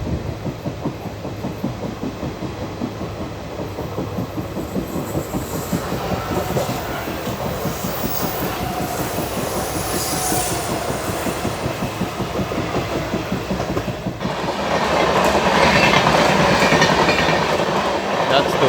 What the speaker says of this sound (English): That's the Udyan Express overtaking our train.